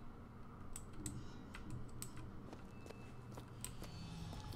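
Quiet clicking keystrokes on a Razer BlackWidow Ultimate mechanical keyboard, irregular taps scattered over a low background hum.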